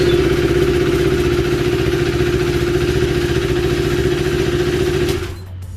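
A motorcycle engine running steadily for a battery test, a loud close idle with a constant droning clatter that cuts off near the end.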